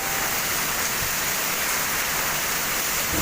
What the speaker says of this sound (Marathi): तुफान पाऊस पडत आहे